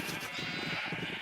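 Sheep bleat on a farm in the video game Rogue Craft, a string of short, steady bleats sounding fairly close and continuous across the moment with no talking over them.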